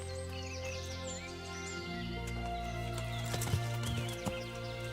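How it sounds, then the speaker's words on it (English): A horse in the Kingdom Come: Deliverance video game, with clip-clopping hooves and a faint whinny over steady game ambience and birdsong. "let's go ahead and call our horse"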